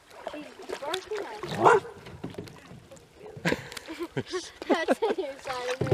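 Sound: dog barking by a river

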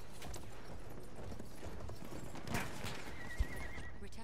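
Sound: horse neighing and galloping in Battlefield 1 video game

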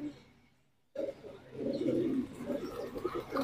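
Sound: pigeons cooing in a loft

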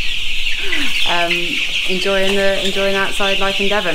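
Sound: Hubbard meat chickens clucking outside in Devon

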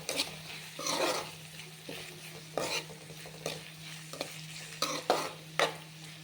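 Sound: curry leaves and onions frying in pan

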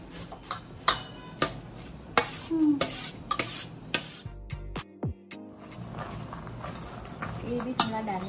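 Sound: stirring mango pickle with mustard oil

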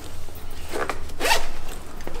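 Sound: zipper on the front of a baby co-sleeper

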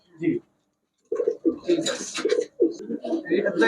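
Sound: Chuitthal pigeons cooing

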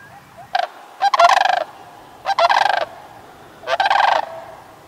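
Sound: ranch animals' alarm calls as winter storm arrives

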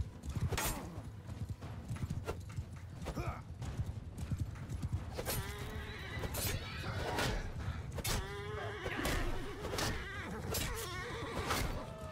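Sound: horses galloping and neighing in the video game Mount and Blade 2: Bannerlord

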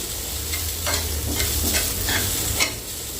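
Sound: fresh grated coconut sautéed in ghee in a pan

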